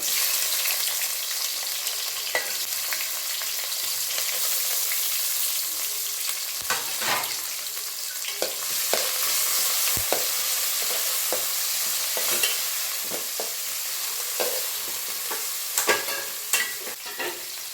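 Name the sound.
onion, curry leaves and chillies sizzling in tempering oil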